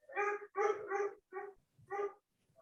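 A dog barks indoors during a city council meeting, giving about five short, yipping barks in quick succession, close and distinct, with no talking over them.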